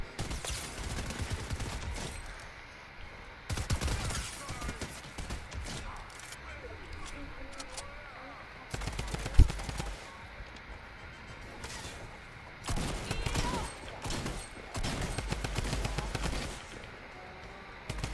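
Bursts of Fortnite gunfire crackle in clustered volleys between quieter stretches, with one sharp loud shot near the middle, all layered over game noise and occasional talking.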